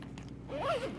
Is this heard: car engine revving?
no